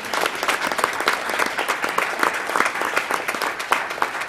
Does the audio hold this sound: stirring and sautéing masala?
no